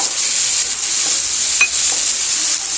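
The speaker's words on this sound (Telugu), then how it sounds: "ఇప్పుడు మనం ముందుగా పేస్ట్ చేసి పెట్టుకున్న పుదీనా అల్లం పేస్ట్ని వేసేసుకోవాలండి." Mint and ginger paste added to chicken frying in a pan, a loud close steady sizzle with a few soft stirring scrapes and a single clink partway through.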